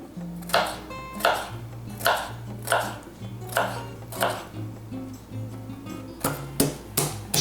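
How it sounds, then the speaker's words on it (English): Garlic is chopped with a knife on a board in steady, evenly spaced sharp knocks, about ten strikes, close and clear over soft background music. "Chop 20 grams garlic."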